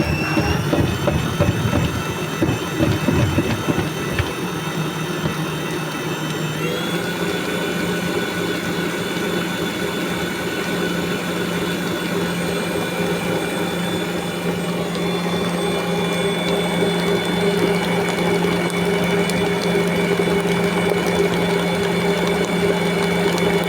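Electric mixer whisking cold eggs for almond cream in a bowl, a steady motor whir that shifts pitch around seven seconds and then holds loud and constant, with no talking.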